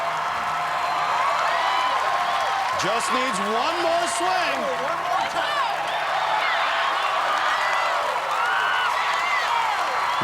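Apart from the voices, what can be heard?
crowd cheering and applauding at American Ninja Warrior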